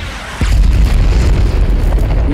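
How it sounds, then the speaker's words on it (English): Giant explosion shockwave from the Avengers: Endgame film, a sudden deep boom that rolls into a sustained, loud rumbling roar. "That shockwave. That giant explosion"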